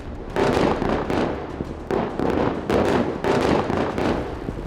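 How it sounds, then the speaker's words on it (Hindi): Explosions in northern Gaza during the Israeli military assault come as a series of loud, rumbling blasts in rapid succession, a dense crackling roar that swells and surges repeatedly. "जोरदार धमाका"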